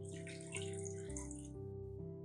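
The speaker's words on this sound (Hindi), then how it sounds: "गोश्त को गलाने के लिए इसमें डालेंगे 1 कप पानी" Water from a tap or jug runs steadily into a pot of meat with whole spices, salt, crushed red chilli and cooking oil, a continuous close pour of about two seconds over a low steady hum.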